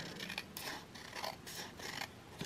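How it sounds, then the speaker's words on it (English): Scissors trim a thin sliver off the top of a paper envelope, giving four or five quiet, crisp snips in an even rhythm, close by with no talking. "we're gonna actually trim off like just a small sliver"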